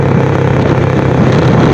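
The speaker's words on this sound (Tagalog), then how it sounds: "Medyo maingay po kasi sa hangin tsaka sa tunog ng motor." Motorcycle engine droning steadily while riding along a bypass road, buried under loud, continuous rushing wind buffeting, with no pauses.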